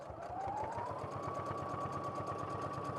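A sewing machine stitches fabric in a fast, steady mechanical chatter, its motor whine rising slightly in pitch and then holding, close and continuous.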